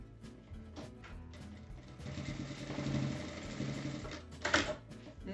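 A sewing machine stitches a bag strap into position, its motor whirring in one sustained run through the middle with lighter ticking and handling knocks before and after, close and clear.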